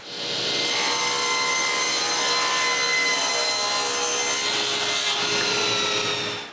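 Wooden dividers for a bathroom vanity being cut with a saw in a woodworking shop, a loud steady cutting whine that ramps up, holds for about six seconds, then fades at the end.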